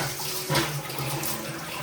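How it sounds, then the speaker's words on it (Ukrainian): Water pours steadily from a tap into a container for whisky mash, a continuous splashing rush, close and even throughout. "починаємо набирати воду."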